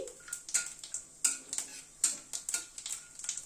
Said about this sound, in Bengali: গ্যাসের ফ্লেমটাকে একদম কম করে ফোড়নটাকে একটু ক্র্যাক করিয়ে নিচ্ছি